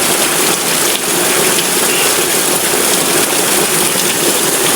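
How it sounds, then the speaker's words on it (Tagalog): Heavy rain pours down steadily on flooded Carmen Street in Tondo, a dense, loud continuous hiss of water with no pauses. "napakalakas ng ulan"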